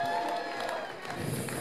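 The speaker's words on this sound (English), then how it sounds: "Can we have for all three of them a huge round of applause?" Applause and cheering from guests at a wedding reception, a dense, steady wash of clapping with crowd voices mixed in, fairly distant and sustained throughout.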